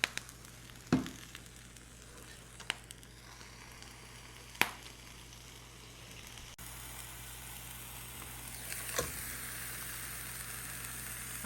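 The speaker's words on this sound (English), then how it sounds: "can hear it sizzling already" Soft steady sizzling hiss of a Reuben sandwich cooking in olive oil in a hot panini press, with a few clicks and clunks, no talking.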